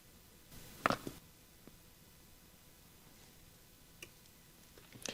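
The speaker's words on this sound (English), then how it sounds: "I can hear a relay clicking inside the heater when I press the two buttons at the same time" Faint clicking from a relay inside an electric heater while its two buttons are held down together, a few sharp soft ticks spaced apart over a quiet background hiss.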